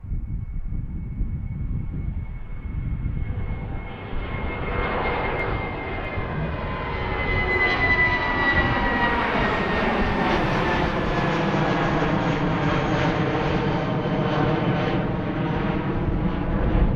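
A United airliner takes off from runway 9 left at Philadelphia: a steady jet engine roar that swells and climbs in pitch as it accelerates and lifts away, alone and loud throughout.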